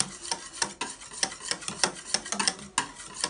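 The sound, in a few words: stirring yogurt into warm mixture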